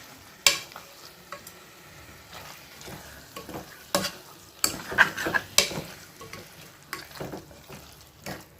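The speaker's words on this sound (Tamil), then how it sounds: "இதை நல்லா பிரட்டி விட்டுக்குவோம், அந்த மசாலா கூட பிரட்டி விட்டுக்கலாம்." Beef gravy with masala being stirred and fried in a pan: a steady sizzle underneath, with repeated sharp scrapes and clinks of a spoon against the pan at irregular intervals, close and fairly clear, no talking.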